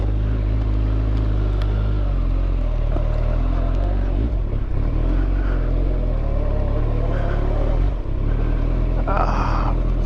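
A Kawasaki ZX14 motorcycle rides through a neighbor's yard, its engine a steady, loud low rumble with wind buffeting throughout, and no clear shifts in revs.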